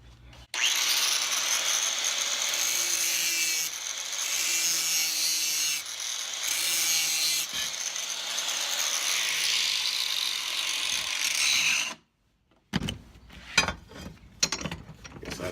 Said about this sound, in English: So first, we'll work on taking these edges down just a little bit.